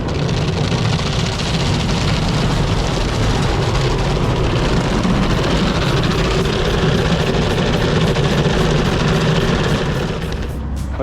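An automatic car wash runs over a Scion xB, giving a loud, dense, continuous roar of spraying water and brushes drumming on the body, with a few sharp knocks right at the end.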